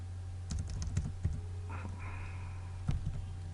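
Keystrokes on a computer keyboard while a GW-BASIC program is typed in, a few close, crisp taps in short bursts with pauses between them, over a steady low hum.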